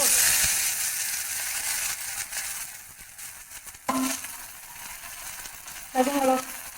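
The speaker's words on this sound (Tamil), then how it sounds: "வெங்காயம் பொரிஞ்சு இருக்கு" Steady hissing sizzle of onions frying in a pan for an egg devil dish, with occasional scraping stirs and brief clinks of a utensil.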